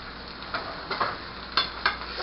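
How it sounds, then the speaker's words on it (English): Potatoes for German potato salad sizzling in a pan, a steady close hiss broken by a few scraping stirs, with no talk. "Now you want to add in your potatoes."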